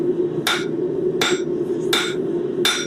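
A hammer strikes steel on an anvil during forging of a round bottle opener, four sharp ringing blows spaced about half a second to under a second apart, close and loud over a steady low hum.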